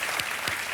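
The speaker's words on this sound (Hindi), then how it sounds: "तालियों के साथ इनका हम अभिनंदन करते हैं" A studio audience on the Kaun Banega Crorepati game show claps in a short, dense burst of applause, bright and steady throughout the brief moment.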